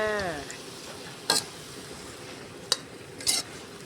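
Vegetables are stir-fried with sugar and oyster sauce in a pan in a rural outdoor kitchen, a steady sizzle with a few sharp clinks of a utensil against the pan, no talking.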